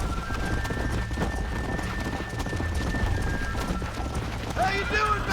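Horse galloping in the video game Red Dead Redemption, a rapid, continuous drumming of hooves with a snort near the end, mixed with game sounds.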